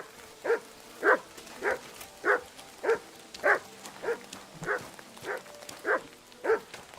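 A dog called Mutt barks in a video game, about ten evenly spaced barks or woofs over several seconds, close and fairly loud.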